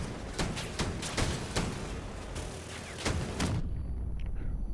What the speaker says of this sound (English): Why did the bot just shoot at me?